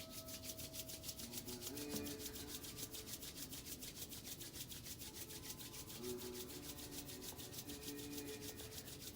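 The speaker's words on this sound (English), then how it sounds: "rub your palms." Palms rubbed together during a guided relaxation, a close, quiet rhythmic swishing friction that repeats steadily with no talk over it.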